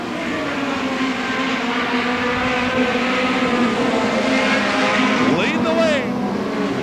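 Midget race cars roar around the Belleville track in a continuous, loud engine drone with a rising whine as a car passes near the end, while a voice speaks briefly over the noise.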